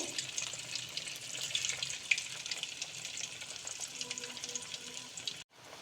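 Rava vada frying in oil gives a steady, soft bubbling sizzle close by, fairly quiet and even throughout, cutting off abruptly near the end.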